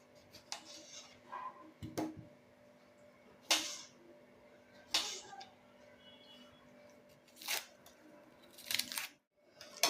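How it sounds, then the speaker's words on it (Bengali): A knife slices a tomato on a board in a quiet kitchen, giving sparse, sharp little cuts and taps at irregular intervals, with faint background hum between them. "টমেটোটাকেও কেটে নেব।"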